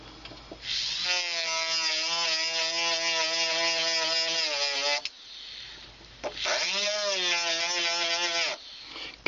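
Small rotary burr in a handpiece cutting a four-prong jewelry setting, two sustained high whining bursts with a pause between them, close and fairly loud.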